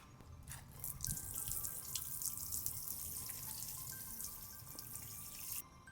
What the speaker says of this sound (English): And then give it a good water.